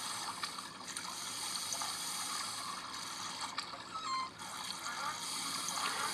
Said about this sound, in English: The water animation and everything is really good.